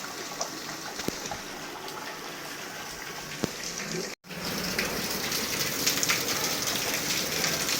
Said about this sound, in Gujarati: વરસાદ ચાલુ છે તો તમને લોકોને બતાવું.